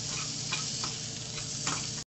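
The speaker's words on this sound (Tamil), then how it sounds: "மிளகாய் வச்சல் தேங்காய் ரெண்டையும் போட்டு வதக்கி" Chillies and coconut sauté in a hot pan while Tirunelveli sodhi is cooked, giving a steady, close sizzle with faint stirring scrapes throughout and no voices.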